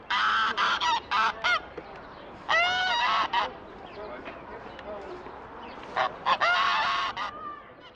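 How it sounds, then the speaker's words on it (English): A goose facing down a tiger honks loudly in several harsh, rapid bursts, with pauses between volleys over a noisy outdoor background. "this goose has an unwavering confidence in itself"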